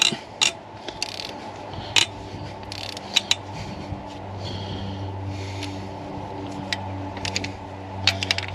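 Ratchet clicking as cylinder head bolts are cracked loose on a 2000 Ford F-250 5.4L 2V engine, with irregular bursts of ratcheting and sharp clicks over a steady low hum, close by.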